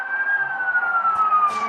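A police car siren wails steadily and loud, its tone slowly falling, heard from inside a moving car with road rumble beneath and no talking.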